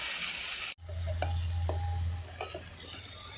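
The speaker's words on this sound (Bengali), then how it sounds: "এবার খুন্তি দিয়ে সুন্দর করে এটা আস্তে আস্তে আমি নাড়তে থাকবো" A spatula keeps stirring garlic, onion and ginger paste sizzling in a pan during Indian village cooking. Steady loud frying hiss runs throughout, with a few scraping taps of the spatula and no talk.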